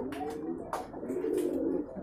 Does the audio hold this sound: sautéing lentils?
no